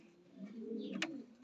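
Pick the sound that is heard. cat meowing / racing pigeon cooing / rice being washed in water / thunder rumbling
racing pigeon cooing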